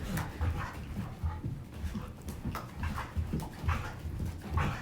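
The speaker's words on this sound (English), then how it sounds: "I'm sorry if you can hear my dog. She's chasing her tail in the background." A dog whimpers and yips in short, repeated bursts while chasing its tail, close by, with scuffling and faint movement noise around it.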